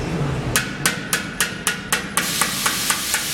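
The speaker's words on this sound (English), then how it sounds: "this is called the off dolly hammering technique." Sharp metallic hammer strikes on sheet metal, using the off-dolly hammering technique, ring out one after another at a steady pace, about a dozen bright clanging taps on metal.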